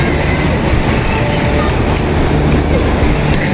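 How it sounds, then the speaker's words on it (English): A busy Indian Railway platform on the Mumbai to Chennai route gives a constant, loud, broadband rumble of a waiting passenger train and crowd noise, with faint voices in the background. "This is our train."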